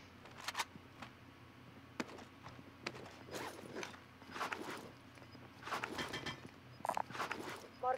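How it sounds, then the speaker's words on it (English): Scattered footstep sounds from a video game, a series of soft irregular steps and shuffles at low level, some moments busier than others, with no talking over them. "I hear footsteps."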